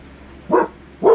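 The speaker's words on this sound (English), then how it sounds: "the dogs are barking" Dogs bark twice in quick succession, two short, sharp, fairly loud barks about half a second apart against a quiet background.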